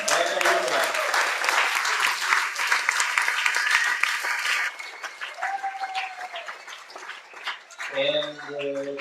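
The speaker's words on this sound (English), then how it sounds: "Big applause for him." An audience at a tech meetup on web programming breaks into loud, sustained clapping that welcomes a speaker, thinning after a few seconds while a host talks over it.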